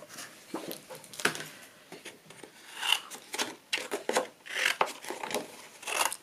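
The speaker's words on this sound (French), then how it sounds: "Je viens juste découper grossièrement mes petits éléments pour pouvoir les passer dans ma machine." Paper being roughly cut out into small card pieces for a holiday card, with repeated close scissor snips and rustling paper handling, no speech.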